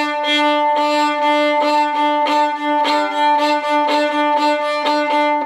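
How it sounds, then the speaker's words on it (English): Violin played with détaché bow strokes, each down bow accented and each up bow softer, giving a steady pulsing run of sustained tones that sounds close and loud with no talking. "a lot of times what people might do is they might accent the down bow, but not accent the up bow"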